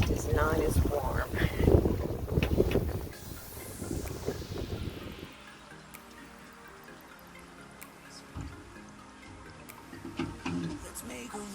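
Wind gusts rush and buffet the microphone while a Catalina 42 sails in roughly 10 to 12 knots of breeze, loud at first and then easing to a steadier, softer rush.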